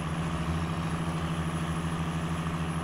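A 1993 Dodge Ram with a Cummins diesel in the SnowRunner game chugs steadily uphill, a low, rhythmic, throbbing engine note that continues without a break.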